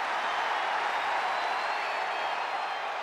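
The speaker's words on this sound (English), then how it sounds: "Listen to this ovation." A large arena crowd in the WWE 2K23 wrestling video game roars in a sustained ovation for a female champion, a loud, continuous wash of cheering and applause without breaks.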